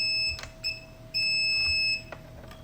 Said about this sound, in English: Let's just put it in beep mode or continuity mode.